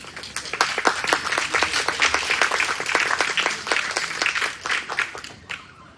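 Audience at an international academic library seminar applauding to welcome a speaker, dense crisp clapping from many people, close and sustained for several seconds before tapering off at the end.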